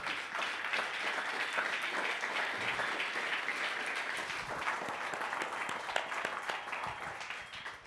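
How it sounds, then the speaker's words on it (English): Sustained applause from an audience at an entrepreneur panel event, a continuous even wash of many clapping hands at moderate distance, steady throughout with no talk over it. "Let's get a big round of applause for the speakers tonight."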